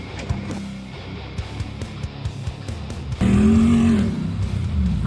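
A Jeep Wrangler engine roars and revs in rough bursts, then jumps to a louder, rising growl as it accelerates hard nearby before jumping.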